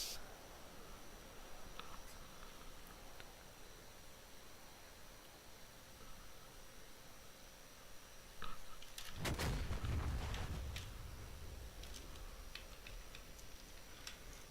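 A Mark 82 bomb exploding in a DCS flight simulation over East Afghanistan, a distant deep boom rising from steady hiss and ticking cockpit noise, then rumbling away.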